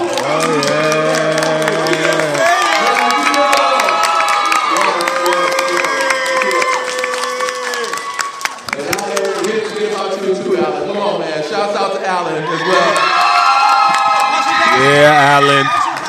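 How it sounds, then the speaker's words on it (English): Crowd of children and adults cheering, shouting and applauding for the director of the Possibility Project show, loud and continuous with whoops rising and falling, and someone talking over it throughout. "Can we give a round of applause to the person who has sleepless nights for the Possibility Project show?"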